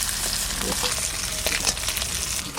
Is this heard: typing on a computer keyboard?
no